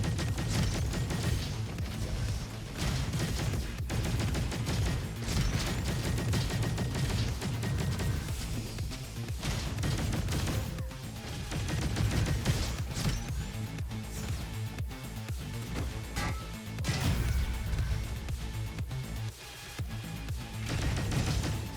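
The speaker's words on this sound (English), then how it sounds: "is this guy just continuously firing at me?" Dense, sustained gunfire from Roboquest combat runs without a break, loud and full over a continuous game soundtrack, with no clear gaps between shots.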